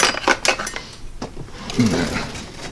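Butter knife handled at breakfast with toast: light metallic clinks and taps against a plate, a few quick close knocks followed by a softer scraping rattle.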